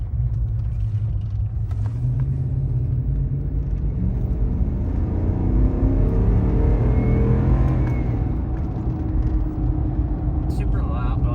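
A 2015 Ram with a 5.7 Hemi V8 and aftermarket headers runs on a dyno, a loud, steady engine roar that rises as it revs through the pull, with voices talking underneath.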